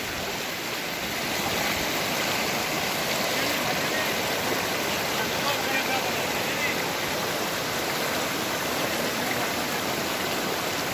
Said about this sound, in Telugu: ఈ వాగు బీభత్సంగా కోనపురం గ్రామ వీధుల దగ్గర